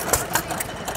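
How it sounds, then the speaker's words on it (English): A small Hercules hit-and-miss gasoline engine from Indiana, USA, runs at a transport festival, its firing making sharp, evenly spaced chuffs about four times a second, close and clear. "Dinky little Hercules gasoline engine from Indiana, USA."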